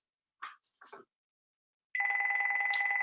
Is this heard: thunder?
no